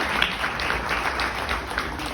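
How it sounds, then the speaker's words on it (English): Guests at a partner appreciation luncheon give a round of applause for partner banks; the clapping is a steady, moderately loud patter that continues evenly without anyone talking. "So let's give them a big round of applause."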